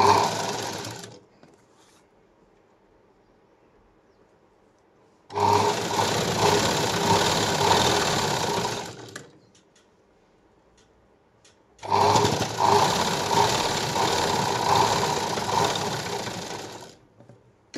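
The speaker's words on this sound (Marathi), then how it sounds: "त्याच्यानंतर लगेच आपल्याला एकदम कडेला शिलाई घ्यायची" A sewing machine stitches along the edge of a blouse in two long, steady runs of several seconds each, separated by quiet pauses, with a close, even mechanical whirr.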